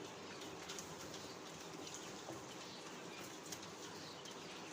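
Captive quails flap their wings in a faint, soft flutter of repeated bursts over a steady background hiss, with occasional quiet bird calls and no talking.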